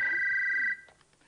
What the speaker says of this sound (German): Halt, Telefon, Entschuldigung